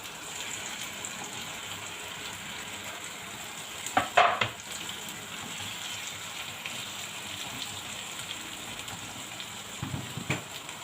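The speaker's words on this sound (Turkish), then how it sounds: "Şöyle soğanlar güzelce kavrulsun." Onions and tomatoes fry in a pan, a steady soft sizzle with a few sharp scraping clatters of a spoon stirring near the start and again toward the end.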